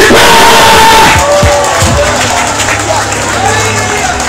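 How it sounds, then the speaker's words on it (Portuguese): A standing church congregation at a revival service in Urbano Santos, Maranhão, roars with loud, dense cheering and shouting, with clapping likely mixed into the steady crowd noise throughout. "Aplaude de pé, de pé, de pé, de pé"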